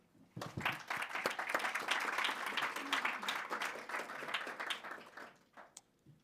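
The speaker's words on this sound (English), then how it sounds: "So give them a big applause." Audience applause at the Digital Alps Conference in Lienz, a dense burst of clapping from a sizeable crowd that swells quickly, holds steady for several seconds and tapers off at the end.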